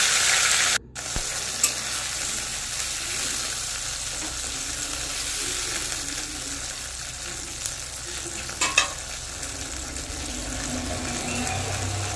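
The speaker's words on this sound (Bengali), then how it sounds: "মশলাটাকে একটু তেলের সাথে মিশিয়ে নিয়ে" Ground spice paste with tomato, gram flour and green chili frying in hot oil for a cauliflower curry, a loud steady sizzle with occasional scraping stirs of a spatula close up, no voices.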